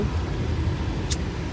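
A car being driven, heard from inside as a steady low engine and road rumble with no voices, plus one brief high squeak near the end.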